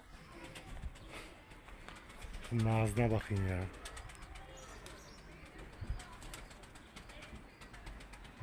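A pigeon gives a short series of cooing calls near the middle, fairly close, against steady background noise, with soft rustling around it and someone speaking briefly.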